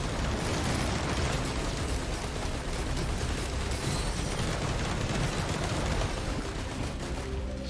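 Dense, continuous crackling bursts of fireworks items going off in the Risk of Rain 2 game, a steady loud barrage of overlapping pops and booms with no pauses.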